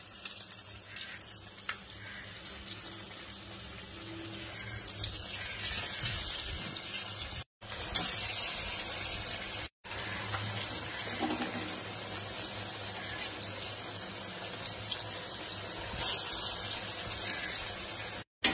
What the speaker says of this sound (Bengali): গ্যাসটা অন করে দিলাম, গরম হয়ে গিয়েছে। আমি এবার এই যে একটা একটা করে ছেড়ে দিচ্ছি।